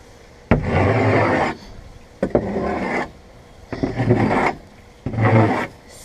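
Bedding being scraped out of a chicken coop, four long rasping strokes of several seconds each separated by short pauses, loud and close with no talking.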